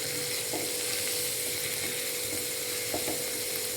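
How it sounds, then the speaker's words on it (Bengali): Food sizzles and fries in a pan over a medium flame, with a steady crackle and a few faint clinks of stirring, close by and without talk. "মিডিয়াম ফ্লেমে এটা আমি আর কি জাস্ট কুক করছি"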